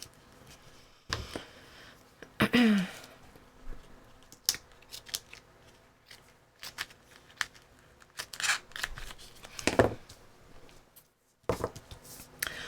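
Cardstock for a composition notebook cover torn by hand, giving a few sharp, close ripping bursts between quieter handling rustles with long pauses.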